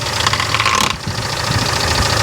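An oil pressure gauge rubs against the spinning engine fan of a Daihatsu Feroza that has just been restarted, a steady scraping and ticking over a loud, close idling engine.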